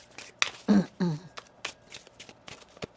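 Tarot cards being shuffled up close, quick riffles and soft slaps in irregular bursts, with a couple of louder flutters early on.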